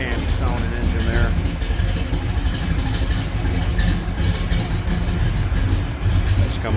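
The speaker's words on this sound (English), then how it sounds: "Remember, 383 stroker, nice little candy sounding engine there." A 1970 Chevrolet Chevelle with a 383 stroker V8 idles steadily nearby, a deep lumpy rumble running throughout under a person talking.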